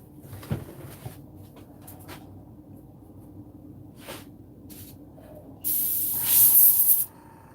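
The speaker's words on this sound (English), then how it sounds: "There we have our airbrush." An airbrush sprays paint in a test burst, a loud hiss lasting about a second and a half near the end after a few faint handling clicks.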